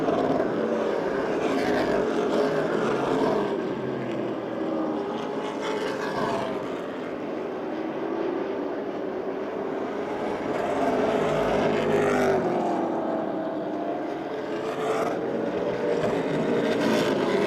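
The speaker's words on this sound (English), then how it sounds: "the 31 of Mark Catone in 3rd position is lapping cars and closing in very quickly on Audi." Stock race cars roar around the Motordrome Speedway oval during a 2009 race, a continuous layered engine drone that swells and fades as cars pass at middle distance, with no speech.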